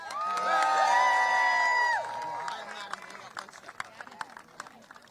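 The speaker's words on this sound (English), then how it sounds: "can we give a big round of applause for Jaime and the rest of the staff?" A crowd at a Texas Democrats' event in Boston cheers and whoops loudly, with overlapping shouts rising at first, then fading into scattered claps and calls.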